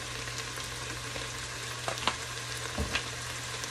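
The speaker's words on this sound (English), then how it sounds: "Add my green bell pepper and my red bell pepper as well at this step. And I'm going to go ahead and saute these down some." Green and red bell peppers sautéing in a cast-iron Dutch oven give a steady, soft sizzle, with a few faint utensil clinks and stirring scrapes near the middle and end.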